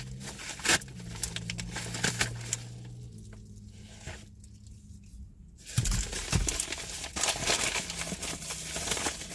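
A mini ring light package being unboxed: busy, close crinkling and rustling of packaging throughout, louder in the second half, with no clear talking.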